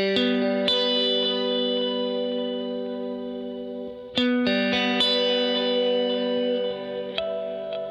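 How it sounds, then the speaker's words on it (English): Electric guitar played through a chorus pedal with an energy knob, sustained shimmering chords with a wavering modulated tone, a fresh strum midway, steady and loud with no talking. "you can switch between them to get two different chorus sounds"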